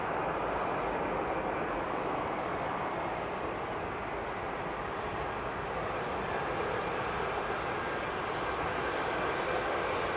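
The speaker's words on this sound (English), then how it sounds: "I have an Air Canada going in just a minute as well" Air Canada airliner coming in to land at Edinburgh Airport, a steady broad jet roar heard from a distance, continuous and unchanging throughout with no voices.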